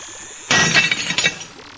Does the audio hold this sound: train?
no